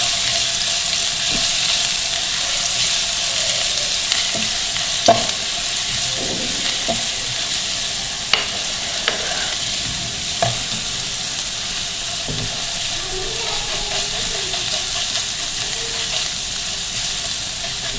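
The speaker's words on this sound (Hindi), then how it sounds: "उसके बाद डालेंगे हम अदरक लहसुन पेस्ट 1/2 टेबलस्पून, वो भी डाल के इसको फ्राई कर लेंगे।" Ginger garlic paste and cumin seeds fry in hot oil, producing a loud, continuous hissing sizzle throughout with occasional sharp pops and faint stirring scrapes.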